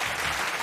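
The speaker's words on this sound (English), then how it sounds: "Let's hear the clap." A short burst of clapping, a dense, even crackle of applause that lasts under a second with no voices.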